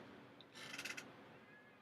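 A house cat lets out one short meow, quiet and indoors, rising briefly over low background hiss.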